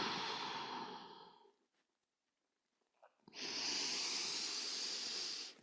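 A long, breathy exhale during a yoga exercise fades out over a second or two; after a pause another strong, hissing breath out follows, close and steady, with no talking.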